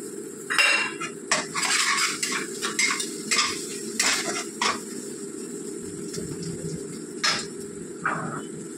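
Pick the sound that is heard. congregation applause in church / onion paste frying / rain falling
onion paste frying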